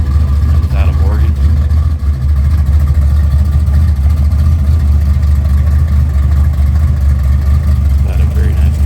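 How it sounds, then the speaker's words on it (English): A supercharged 1969 Camaro at a collector car auction runs with a loud, deep, rumbling engine note that holds steady throughout, with an unbroken low drone and crowd ambience around it. "1969 Camaro says supercharger on it. Really a rowdy sounding car."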